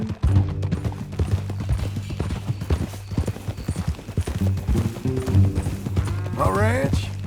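Horses' hooves clop loudly and up close in a Western open-world game, with a busy rhythm of several animals stepping under low droning music. A horse snorts or whinnies near the end.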